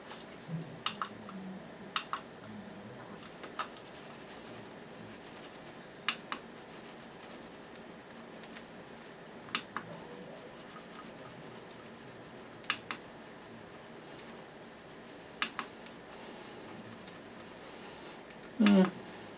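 Vibe Clix gaming mouse buttons pressed one at a time, sharp isolated clicks spaced a second or two apart, some doubled, close and crisp over a faint background hum.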